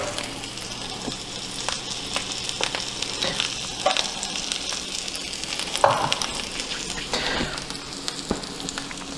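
An egg frying in a hot pan crackles and sizzles steadily throughout, with a few sharper pops and spits standing out, close and fairly loud, and no talking.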